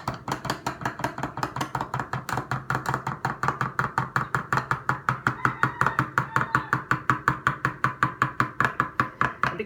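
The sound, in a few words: stirring roasted garlic sourdough bread dough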